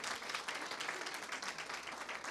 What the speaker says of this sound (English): one last big round of applause as everybody walks their way out